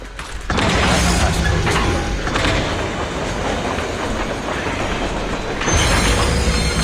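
Trains rumble past in the Zenless Zone Zero video game: a loud, steady rail roar with clickety-clack and faint wheel squeal that swells again near the end, with no talk.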